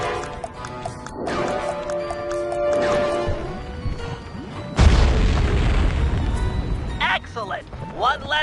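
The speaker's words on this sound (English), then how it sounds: "Place the dynamite when you get near the anchor, or kaboom!" A dynamite stick detonates in Sly Cooper 3, set on an anchor over a Venetian skyline: a sudden loud boom with a broad crashing rumble that lingers for a few seconds, amid game music and a character talking.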